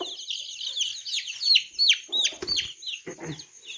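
Native country chickens and chicks at a poultry farm during vaccination give rapid high chirps and clucks in overlapping bursts, close by, with a brief clatter partway through.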